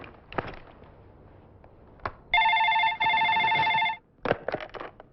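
A telephone rings with a bright electronic warble in two bursts separated by a short gap, with scattered clicks and knocks before and after the ringing in an otherwise quiet room.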